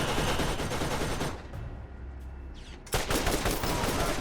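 Dense automatic turret gunfire from Borderlands, loud and continuous, drops away briefly mid-clip, then bursts back in at full intensity, with no talking.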